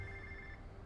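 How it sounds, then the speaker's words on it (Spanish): A telephone rings in the video game Infamous First Light, a steady electronic ring with sustained tones held at moderate distance over quiet background sound. "me llaman por teléfono"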